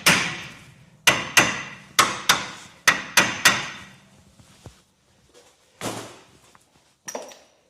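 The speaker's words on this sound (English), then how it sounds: "just going to take a brass hammer." Sharp metallic brass-hammer strikes ring out in a quick series of about seven blows, then a few scattered, softer knocks after a pause, during a Toyota Land Cruiser 80 Series steering knuckle teardown.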